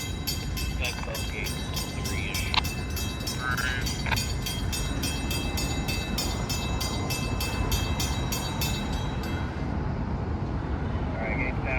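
A Florida Central Railroad train rolls steadily past an activated grade crossing, with a continuous rumble of wheels on rail and the crossing bell ringing rhythmically until it stops near the end.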